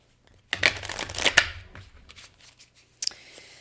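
Tarot cards being shuffled by hand: a brisk riffling burst of papery flutters and snaps lasting about a second, a quieter rustle, then a short final flick, close and clear against a quiet room with a low hum.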